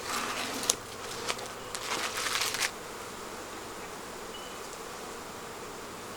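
Honeybees buzzing around an opened hive, a dense steady hum with a few quick rustles and taps near the start before the buzzing settles into an even drone.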